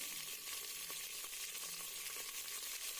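Curry leaves, onions and tomatoes frying in a pan for goat curry give a steady, close hiss of sizzling oil with faint stirring scrapes, heard alone without any voices.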